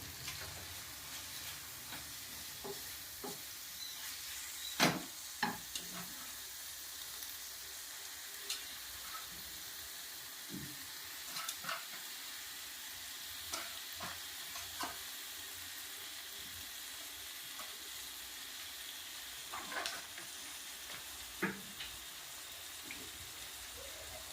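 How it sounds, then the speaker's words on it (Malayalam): Cut squid rings frying in a pan for a Kerala-style squid roast, a steady low sizzle with scattered sharp clicks and scrapes as they are stirred, fairly faint and with no talking. "ഇതിലേക്ക് നമ്മൾ കട്ട് ചെയ്ത് വെച്ചിരിക്കുന്ന സ്ക്വിഡ് റിങ്സ് ഇട്ട് കൊടുക്കുന്നു"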